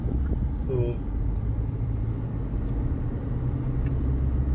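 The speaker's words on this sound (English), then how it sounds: "the engine isn't that loud, but when you cross around 2500 RPM, the engine starts to be vocal" A 2024 Hyundai Creta facelift diesel engine with automatic transmission drones steadily at low pitch, a continuous rumbling hum with a brief whine near the start.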